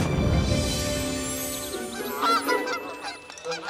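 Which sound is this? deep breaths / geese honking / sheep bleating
geese honking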